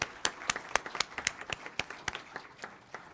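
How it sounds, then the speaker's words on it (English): A small group at a city council meeting applauds its sponsors, with sparse, distinct claps in a loose rhythm, each one sharp and separate, and a few hands fairly near. "Let's give our sponsors another round of applause."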